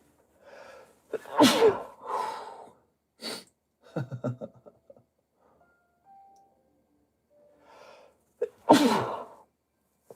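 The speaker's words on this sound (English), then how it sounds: "I gotta sneeze, dude. Must be the dust or something." Two loud, close sneezes several seconds apart, the first preceded by breathy build-up, with scattered short vocal sounds and breaths between them.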